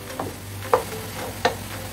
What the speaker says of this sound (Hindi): मिक्स करें रेडा, वेरी गुड।